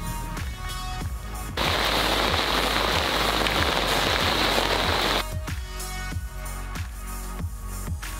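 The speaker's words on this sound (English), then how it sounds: "I got back into the bivvy as the rain began to fall once more" Rain patters on a fishing bivvy at a gravel pit in France, a dense close drumming that swells into a heavy, loud downpour for several seconds, then drops back to scattered drops and taps.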